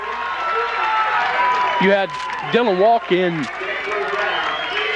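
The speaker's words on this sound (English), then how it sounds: "And now the Valley defense and the Valley crowd fired up again." Home crowd cheering at a high school football game after a defensive stop, Valley fans fired up; a steady, broad roar of many voices runs throughout, with a commentator talking over it.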